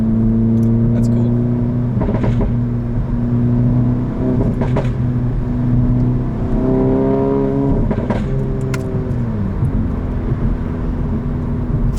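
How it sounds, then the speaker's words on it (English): Engine of a 2015 Volkswagen GTI with an APR Stage 2 tune, droning steadily inside the car as it downshifts from fourth to third, with a few sharp exhaust pops and crackles breaking through the engine note. "the 4 to 3 downshift makes the loudest pops"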